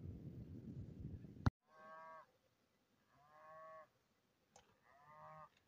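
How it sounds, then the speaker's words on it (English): Three long, low moos from cows in a windy hill valley, spaced a couple of seconds apart and fairly distant, following a brief burst of wind noise and a sharp click. "Cows are noisy this morning"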